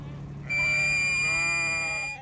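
One ewe gives a single drawn-out, nasal bleat lasting a couple of seconds, close and clear over a low background rumble.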